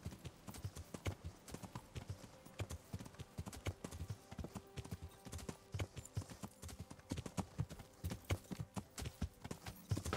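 Horse hooves clip-clop steadily on the ground in the medieval game Kingdom Come, a close, continuous rhythmic trotting with occasional irregular steps as the horse turns.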